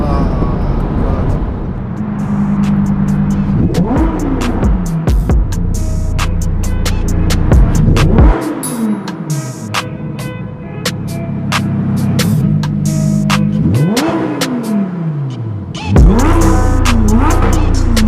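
A 640 bhp Lamborghini Huracan Performante accelerating hard, its engine rising in pitch through repeated quick short-shifted gear changes with sharp drops between, loud and close inside the cabin.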